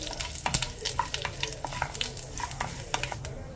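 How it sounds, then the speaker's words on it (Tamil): Mustard seeds and black urad dal spluttering in hot oil, a close steady sizzle broken by many sharp crackling pops at an irregular rhythm. "கடுகு நல்லா பொரியட்டும்."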